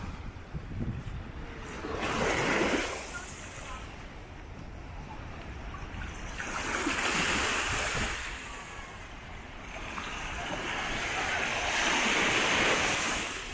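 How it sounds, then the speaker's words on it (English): Ocean waves break and wash up a beach in southside Kauai, Hawaii. Three big surges of hissing surf build and recede in slow cycles under steady wind noise, loud and close, with no one talking. "this is just a beautiful beach"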